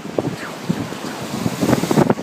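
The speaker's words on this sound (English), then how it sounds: "Look at these waves, they're awesome." Ocean surf breaking on a Cornwall beach, a rushing wash of waves mixed with heavy wind buffeting on the microphone, loud and close throughout.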